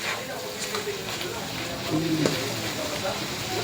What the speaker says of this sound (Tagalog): Pakulan muna natin ng konti para maluto